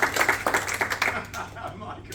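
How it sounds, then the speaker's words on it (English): A small crowd in a lounge gives a round of applause, with a short, scattered patter of clapping under talking voices that tapers off quickly. "Give them a round of applause"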